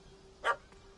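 A puppy in The Witcher 3 lets out one short, sharp yip, faint and fairly distant over a low hum.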